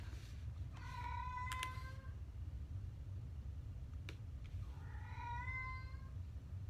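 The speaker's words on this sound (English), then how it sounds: "Oh, there's my cat." A house cat gives two drawn-out meows a few seconds apart, close but fairly soft, over a steady low background hum, with no talk.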